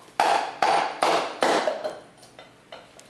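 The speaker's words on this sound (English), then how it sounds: "you can use a hard surface like a concrete floor to help tap the motor open" An eZee electric bike hub motor is struck against a concrete floor. Four loud, sharp knocks come in quick succession, followed by a few lighter taps that fade out.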